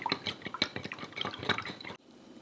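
Soy sauce, dark soy sauce, oyster sauce and chicken stock poured and dripping into a bowl for chicken lo mein sauce, a close series of wet splashes and drips with faint clinks, stopping abruptly near the end.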